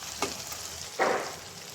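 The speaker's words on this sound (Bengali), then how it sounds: "এই পর্যায়ে আমি আলুগুলো একটু একটু উল্টিয়ে দেব।" Potatoes are turned over in a hot frying pan, giving two brief scraping stirs over a soft, constant sizzle.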